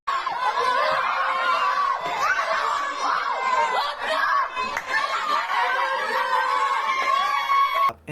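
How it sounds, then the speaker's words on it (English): Palestinian children in Gaza cheer and shout at the top of their lungs over a ceasefire, a loud, dense crowd of young voices yelling and laughing together close by without pause. "There's this video of these Palestinian kids cheering at the top of their lungs because of the ceasefire"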